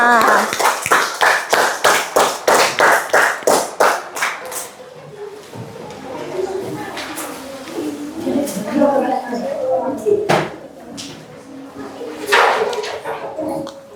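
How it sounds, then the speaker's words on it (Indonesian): A third-grade class of children claps in a quick, evenly spaced rhythmic pattern of about a dozen sharp claps, then scattered clapping and chatter from the classroom follow, with voices talking underneath. "Tepuk tangan buat kita semua."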